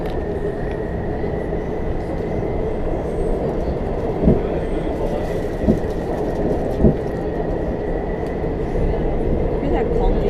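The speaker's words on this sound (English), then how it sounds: "Hear that clunking noise?" A Washington Metro Red Line subway train rumbles steadily with a few distinct clunks at intervals, a deep continuous drone underneath; no one speaks.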